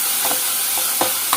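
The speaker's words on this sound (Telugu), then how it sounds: "తర్వాత వెంటనే ఉల్లిపాయలు కరివేపాకు అయితే వేసానండి. ఇవి కొంచెం వేగినాక" Onions and curry leaves frying in hot oil, a steady close sizzle with a few soft stirring knocks against the pan, short and without voices.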